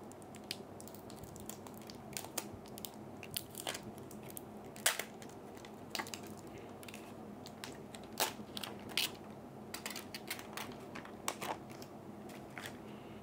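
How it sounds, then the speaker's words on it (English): Protective film is peeled off a Samsung Galaxy Z Fold 4 phone, giving faint, scattered crackles and soft sticky ticks spread through a quiet stretch with no talking. "now let's take the peel off of the device"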